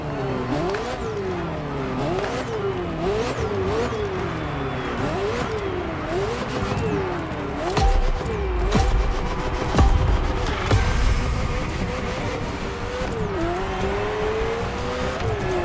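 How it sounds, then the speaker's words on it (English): A Ferrari F40 supercar in The Crew Motorfest racing game revs hard and shifts repeatedly, its engine note rising and falling, with tires squealing through corners and a heavier rumble midway. "The Ferrari F40, second vehicle of the manufacturer to earn the prestigious supercar status"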